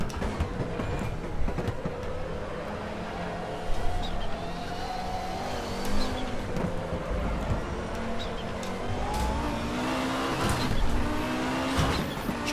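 An Audi 90 IMSA GTO race car drifts around the Nürburgring in the RaceRoom racing game. The engine roars loudly and continuously, with shifting pitch and a rising whine as the tires slide.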